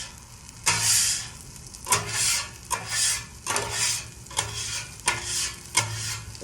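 Crispy chicken pieces fry in a pan of hot oil for an oily cook, with loud bursts of sizzling and scraping stirring that come and go in repeated surges, close by with no talk.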